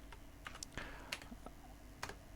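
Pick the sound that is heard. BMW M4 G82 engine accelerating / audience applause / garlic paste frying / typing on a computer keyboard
typing on a computer keyboard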